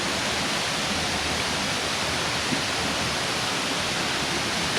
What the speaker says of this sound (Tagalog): Meron siyang mga water streams dito.